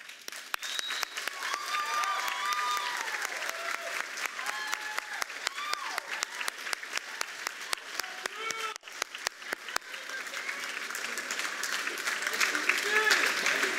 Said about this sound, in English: since I made you give me a standing ovation